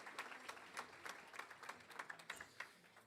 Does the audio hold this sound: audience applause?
yes